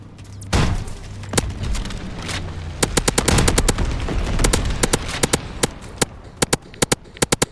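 Anti-aircraft gunfire in the World War II shooter game Call of Duty WWII: a heavy opening blast, then rapid bursts of sharp, loud cracks in an uneven rhythm over a rumbling battlefield background.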